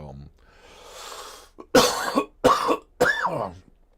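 Three harsh coughs close up, one right after another after a brief quiet moment.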